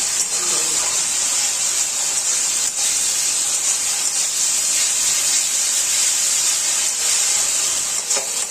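Spice paste (masala) sizzles in a pan over a medium-low gas flame, a steady close frying hiss that holds evenly throughout with no clear breaks.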